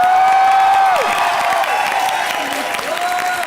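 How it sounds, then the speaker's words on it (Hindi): A studio audience at a comedy show applauds and cheers for Rahul Roy, a steady wash of clapping and crowd noise that carries through the whole stretch, with whistle-like tones gliding over it. "राहुल रॉय सर के लिए जोरदार तालियां हो जाएं।"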